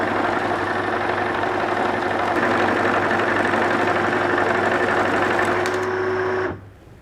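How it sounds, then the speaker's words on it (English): A currency counting machine whirs steadily as it sorts banknotes by denomination, a loud continuous mechanical hum with rapid fluttering that stops abruptly near the end. "Put this entire currency back into the machine, it would sort denomination wise."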